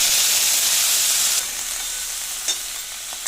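Eggplant pieces hit hot mustard oil with panch phoron: a loud, bright hiss that drops to a steadier, softer sizzle after the first burst, with a few small pops.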